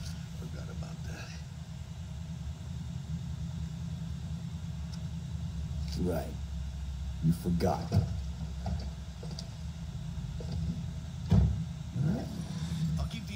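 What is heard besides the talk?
car engine running in the video game Cyberpunk 2077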